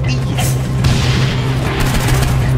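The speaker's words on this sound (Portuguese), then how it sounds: "deu um tiro" Gunfire and explosive booms in the video game Saints Row IV, a dense, loud burst of shots and blasts sounding continuously over a constant low game hum.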